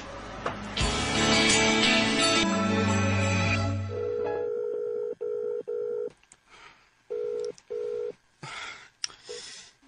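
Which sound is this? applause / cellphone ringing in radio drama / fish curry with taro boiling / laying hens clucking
cellphone ringing in radio drama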